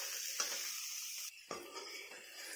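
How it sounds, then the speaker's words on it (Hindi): Radish bhujia frying in hot oil in a village kitchen, a steady bright sizzle with a couple of stirring scrapes and a brief dip when the pan is shifted, close and without talk. "तेल में फ्राई कर देंगे इसको भी।"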